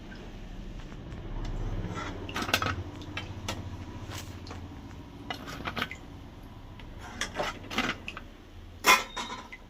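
Fried masala vadas are shifted onto a plate, with light clinks and scrapes of utensil against dishware in scattered taps and one sharper knock near the end, close by and moderately quiet, with no speech.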